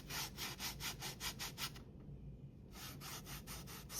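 Linen fabric being rubbed and distressed for a junk journal cover gives steady rhythmic scraping strokes, close and fairly loud, with a brief quiet pause in the middle before the rubbing resumes.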